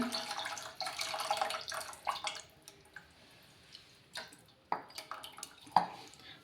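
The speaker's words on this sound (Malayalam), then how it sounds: "വെള്ളം ഒഴിച്ചോണേ." Water splashes and trickles into a pan in short bursts, with drips and light clatter between pours, close by and fairly quiet.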